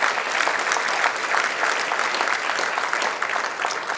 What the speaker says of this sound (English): Can we give a big hand of applause for yourself